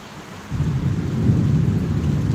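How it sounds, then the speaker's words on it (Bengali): Steady rain with a deep, low rumble of thunder swelling in after a moment and rolling on continuously. "বৃষ্টির সাথে সাথে আকাশে বিজলি চমকাচ্ছে"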